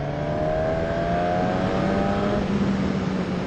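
A Suzuki Katana's GSX-R-derived four-cylinder motorcycle engine revs steadily and close by, its droning note holding mostly even with a slight change in pitch partway through, with no voices.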